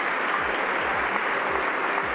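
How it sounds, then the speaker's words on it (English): Dense, steady applause fills the House chamber during a vote for Speaker, a broad crowd clapping continuously with no pauses. "I believe they are clapping for Patola because her husband died in a plane crash"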